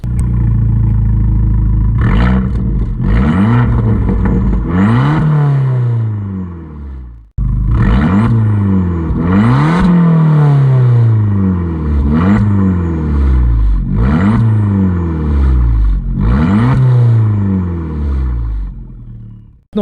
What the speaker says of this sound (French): je vais vous mettre un aperçu tout de suite dans la vidéo du mode normal et du mode sport de l'échappement